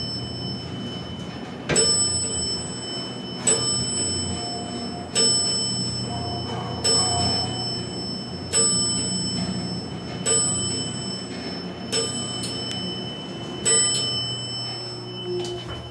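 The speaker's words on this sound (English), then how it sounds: "While we're up here, we'll hear that alarm bell one last time." Elevator alarm bell in a parking garage rings in eight sharp, evenly spaced bursts about every two seconds, loud and close, with a steady low hum of machinery underneath and no talking.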